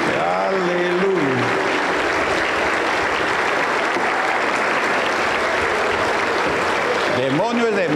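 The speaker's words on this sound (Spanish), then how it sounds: "Aplauso para el Señor Jesús." Pentecostal church congregation applauding steadily and loudly through a prayer service, with a voice speaking over the clapping at the start and again at the end.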